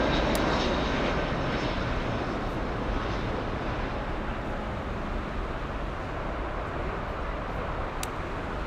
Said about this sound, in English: this is Lufti Flight 3FN inbound from Oslo, Norway